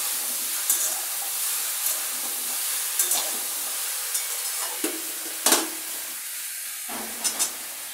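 Pineapple pieces sizzle and fry in a pan over a tempering of five spices for a Bengali chutney, a steady close hiss broken by scattered clicks and stirring scrapes, with no talk.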